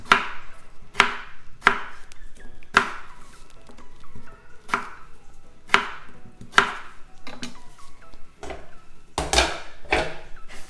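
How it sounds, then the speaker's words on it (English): A knife chops potatoes into small cubes on a cutting board, giving sharp, close, evenly spaced knocks roughly once a second, with a quicker cluster of cuts near the end. "So we're going to cut them into some smaller cubes."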